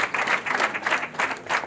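Audience applause at a wedding celebration, a steady wash of many hands clapping that swells and dips in waves, fairly close and full throughout.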